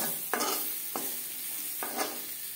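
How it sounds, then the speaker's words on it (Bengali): Boiled potato pieces frying in a pan with salt, turmeric and a little red chilli powder, a soft steady sizzle broken by three distinct scraping stirs, close and fairly quiet with no voices. "লবণ, হলুদ ও সামান্য পরিমাণে লাল লঙ্কার গুঁড়ো দিয়ে আলু আমি হালকা করে ভেজে নিলাম"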